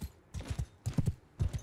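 An Aserai horse in Mount and Blade Bannerlord gallops in quick triple beats of hooves, three rhythmic bursts of thudding clip-clop close by with no talking.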